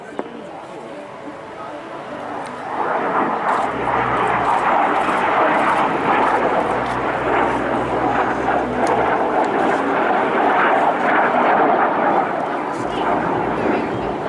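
A 1952 MiG-15 jet fighter, formerly of the Polish Air Force, performs a flying display at an air festival, with a loud, sustained jet roar that swells after a brief quieter start and stays steady overhead to the end.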